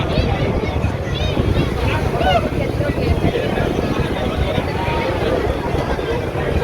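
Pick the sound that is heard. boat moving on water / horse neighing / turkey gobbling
boat moving on water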